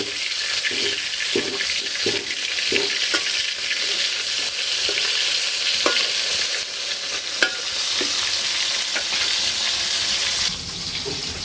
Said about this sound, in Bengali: আর এই পাশ ভাজা হইতে হইতে